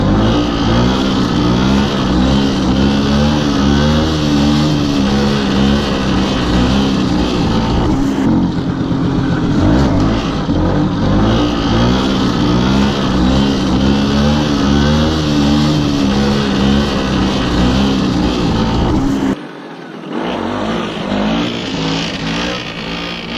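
A motorcycle engine revs hard and steadily with the clutch pulled in while preparing for a wheelie, a loud continuous roar close by that cuts out briefly near the end before resuming.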